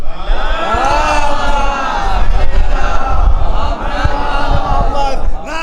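A mosque audience at a religious gathering responds with a loud collective chant of the salawat slogan, many voices sustained and overlapping across the hall, steady in volume before briefly dropping near the end.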